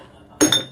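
A glass bottle clinks sharply against a drinking glass, two quick bright chinks close by after a quiet moment, with no talk.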